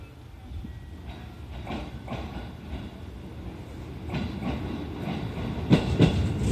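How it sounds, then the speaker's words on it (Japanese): A 311 series train pulls away from Okazaki station, its rolling rumble building steadily, with faint wheel clatter and a few louder knocks toward the end. "列車が発車します。"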